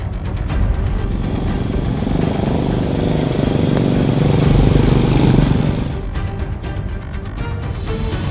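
A motorcycle engine drones steadily nearby while riding a winding, steep hill road, swelling slightly as it climbs, then easing off toward the end; no talking.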